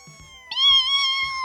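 A single cat meow sound effect, clear and sustained with a rising, drawn-out tone, heard alone over faint low thumps.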